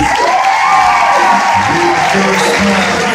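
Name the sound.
audience applause and cheering at wedding reception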